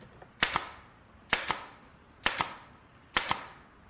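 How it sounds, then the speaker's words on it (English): A nail gun driving nails into hard wood: four sharp, loud double-cracks spaced about a second apart, each a quick bang with a short bright tail, close by with no talk. "I think I'm going to need the nail gun."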